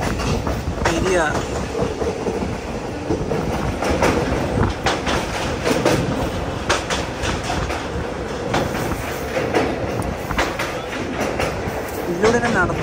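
A passenger train crosses the Periyar river bridge near Aluva, heard from inside a general-class coach. Rhythmic clickety-clack beats ride over a loud, continuous rumble throughout.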